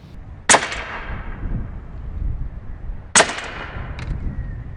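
A Western Sidewinder .30 caliber air rifle fires twice at a 2x4, each shot a sharp, loud crack followed by a short ringing tail, separated by about two and a half seconds of quiet outdoor background.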